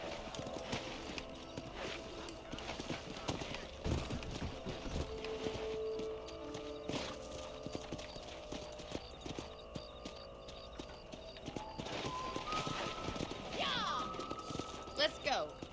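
Hooves clip-clop steadily from horses on a ranch in a Western video game, mixed with game music and ambient sound, while voices talk over parts of the sequence.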